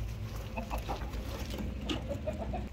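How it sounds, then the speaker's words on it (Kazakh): Chickens clucking steadily near a farmyard coop, several short clucks and squawks over a low rumbling background, without speech. "Жүріңдер тауықтар, жүріңдер үйлерге, кіріңдер."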